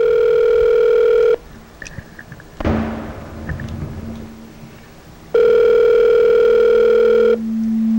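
A telephone line tone sounds loudly and steadily, breaks off into muffled handling noise and a burst of rustle, then returns as a long steady tone before dropping to a lower hum.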